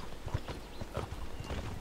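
Donkey hooves clip-clopping in the online game Mortal Online, a steady walking rhythm of dull hoof knocks at a moderate level under a soft background hiss, with no talking.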